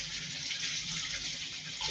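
Running water from a tap pours steadily over a suction-base apple slinky peeler being rinsed at a sink. The hiss is continuous and close, with no speech.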